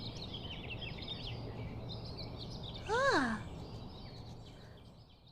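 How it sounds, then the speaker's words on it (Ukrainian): A short, bright chirp from a small bird rises over soft background hiss, with a brief voiced sound just before it. "Тут живе пташка. Вона цвірінкає."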